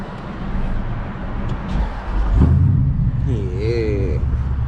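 A 500 hp Dodge SRT Durango engine starts up amid road noise, a deep rumble swelling partway through and settling into a low, steady idle while a brief tonal voice or tune rises above it.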